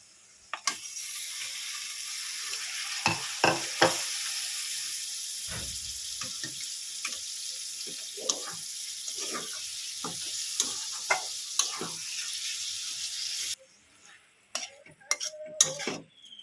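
Minced meat for keema sizzles loudly in a pan with tomato and its own juices, a continuous bright hiss broken by repeated scraping and clinking stirs, before the frying noise cuts off near the end, leaving a few scattered clatters.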